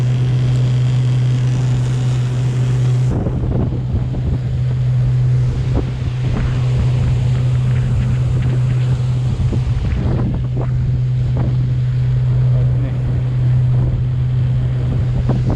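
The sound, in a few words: motorboat travelling along the shipping lane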